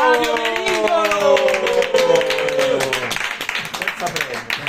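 Crowd clapping welcomes president Fabio Merigolo at an Italian sports awards night. Steady, loud applause runs under a voice, with music-like tones in the first half.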